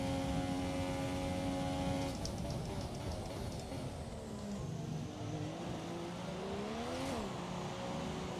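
A Formula 1 car engine in the F1 2017 video game at Bahrain, a high-pitched, steadily droning whine that drops and rises through gear shifts as the car laps the circuit.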